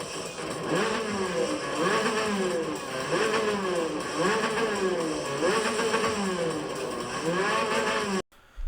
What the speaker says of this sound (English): I'm going to press the gas now.